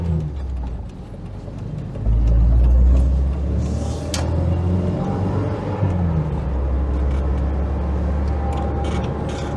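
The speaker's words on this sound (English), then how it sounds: "we're going to do some highway driving and see how it is at higher speed" Renault Espace cruising at speed on a French autoroute, with continuous low engine and road rumble, tyre and wind noise, and a heavier surge of rumble early on.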